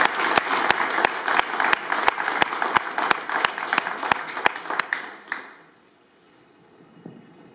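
A live audience breaks into dense, sustained applause at a press event, with a few louder individual claps cutting through before the clapping fades out to near silence.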